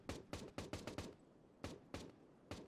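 Rapid, evenly spaced gunshots in the military shooter Tip Of The Spear: Task Force Elite, a quick run of about six cracks, a brief pause, then three more, distant-sounding and fairly faint.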